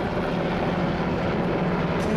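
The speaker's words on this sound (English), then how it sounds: "Looks like Army helicopters." Army helicopters fly overhead above a tornado-damaged neighbourhood, their rotors making a steady, loud, broadband rumbling drone throughout.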